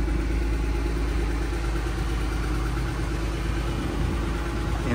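A 1982 Mercedes-Benz 280SL with a 5-speed gearbox and 10K actual miles idles after a cold start, its engine holding a steady, even hum throughout, close and alone.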